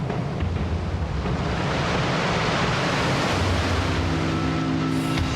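Ocean waves break against rocky cliffs as a continuous loud roar of surf and spray, with no letup throughout.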